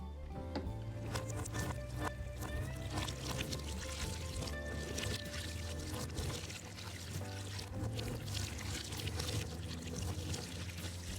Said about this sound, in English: Let's just give it a little bit of a rinse with hot water.